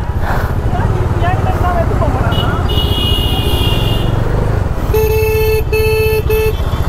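Busy city road traffic near a large temple, with engines rumbling steadily close by and car horns honking in several short and sustained blasts, while someone talks over the din.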